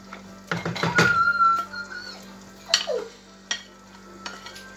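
Washed fish dropped into a pot, sending up a burst of sizzle and spatter, followed by a few sharp clanks of metal cookware against a steady background hum.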